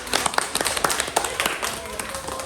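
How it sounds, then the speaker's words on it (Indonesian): A class of students claps their hands together in a school lesson, the claps uneven and scattered, close and fairly loud, with voices chattering alongside. "Oke, tepuk tangan semuanya."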